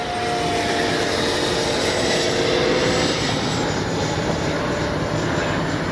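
A small jet aircraft flies steadily overhead with a continuous, loud engine roar and broad rushing noise that holds level throughout, with no voices.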